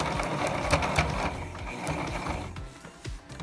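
A sewing machine stitching elastic casing along the edge of a cloth diaper, a faint rapid mechanical whir and clatter running continuously and then easing slightly near the end.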